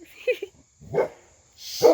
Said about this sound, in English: that's my dog Elsie